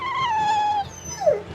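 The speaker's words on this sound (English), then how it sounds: "Walking hunks of armor I can deal with, but dogs? On my ship?" Dog whimpering in the fantasy action RPG Tales of Berseria, a drawn-out high whine that falls slightly, then a shorter descending whimper, loud and close over a low game background.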